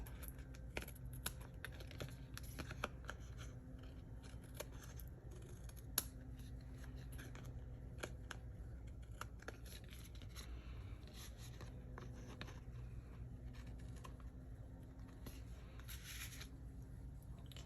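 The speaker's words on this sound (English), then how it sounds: "I'm just going to come back with my paper snips on the back side and trim off any excess" Paper snips trimming excess card stock from the back of a stamped card piece, a series of quiet, close crisp snips and small paper rustles spread over the stretch.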